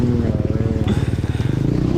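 A KTM 300 two-stroke dirt bike races in a hare scramble, its engine popping and burbling loudly up close, with a voice speaking over it.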